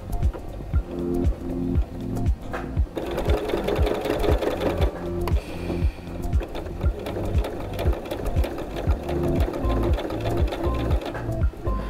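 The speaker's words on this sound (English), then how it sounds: "And then we're gonna sew around the top. We're gonna do a top stitch." Sewing machine top-stitching around a fabric envelope book cozy, a close, steady rhythmic chatter of needle strokes running almost continuously, with brief pauses and a slight change in pace midway.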